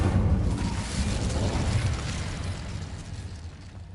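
Incendio fire spell cast in a Harry Potter game, a rushing whoosh of flame bursting loudly then tapering into a fading roar over a few seconds, with no talk.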